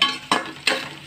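Cumin seeds drop into a hot spice paste for noodles and sizzle in the pan, with two or three quick bursts of frying crackle over a steady sizzle, close and fairly loud.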